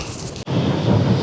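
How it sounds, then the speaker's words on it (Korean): Strong wind gusts roar across a coastal cliff in Portugal with rain, a loud continuous rushing buffeting broken by a brief dropout, with no talk. "와 이거 뭐 바람이 세가지고 날아갈 것 같네. 정말 어 비까지 와가지고 말이죠."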